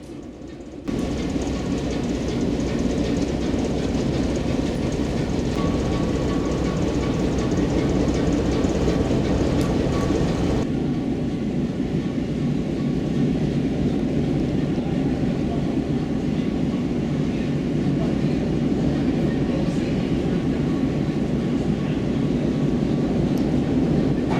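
An 8F steam locomotive stands inside an engine shed, giving off a steady, loud broadband hiss and rumble that continues for the whole stretch with no break.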